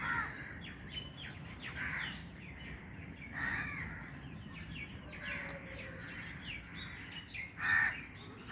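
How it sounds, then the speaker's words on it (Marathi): Several birds, including crows cawing, call and chirp near a house by a river in Goa at about 6:30 in the early morning, with scattered bursts over a steady low background hum. "आयकाय पक्षा आवाज आयकाय"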